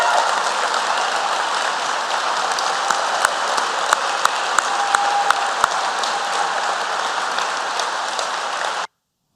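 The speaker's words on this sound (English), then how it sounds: "I'd like to ask them to stand for a round of applause." Audience applauding Port Authority employees at an evening board meeting, a dense steady wash of many hands clapping for about nine seconds before stopping abruptly, with a few sharper claps standing out.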